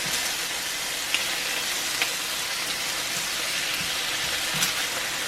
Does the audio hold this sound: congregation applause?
no